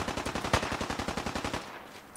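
Rapid automatic gunfire in the video game Fallout 4, a steady burst of closely spaced shots in a fast even rhythm lasting about two seconds before it stops, with no voices over it.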